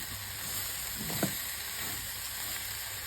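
Ajwain seeds frying in hot oil for a drumstick-pod pickle: a steady, even sizzle with hiss continues throughout, with a brief stir or scrape near the middle.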